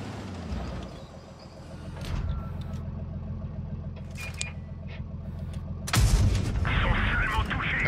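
Tank cannon fire in World of Tanks Blitz, with a French tank in the ML2 map-style battle: a sharp broadband blast near six seconds over a steady engine rumble and game noise, with smaller pops and shots earlier.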